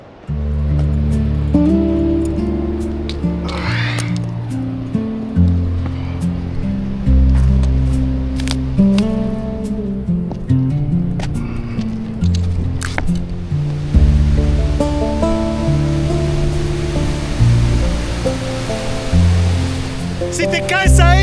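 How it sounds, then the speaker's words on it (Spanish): A wild, fast river rushes through a canyon in California's Sierra, a loud continuous roar of churning water that fills the scene, with lower tonal sounds running underneath. "es un río muy bravo, especialmente en las secciones que vamos a ver ahorita"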